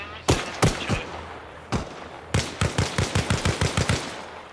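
Gunfire in a military simulation video game: a few spaced single shots, then a rapid rhythmic burst of about ten reports, loud and close, with a voice faintly audible in the background.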